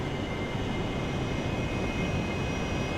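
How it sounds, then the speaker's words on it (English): An F-14 Tomcat jet passing in full afterburner gives a steady, loud broadband roar that holds without break, with no voices over it. "Any of you boys see a Tomcat in full burner go by?"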